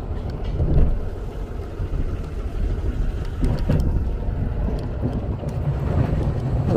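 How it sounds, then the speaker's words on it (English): A 2017 GEM electric car running on a 48V lithium battery pulls away from a stop, its low, steady motor and road rumble mixed with wind buffeting on the microphone, loud and close throughout with no talking. "Little peel out, punch the gas."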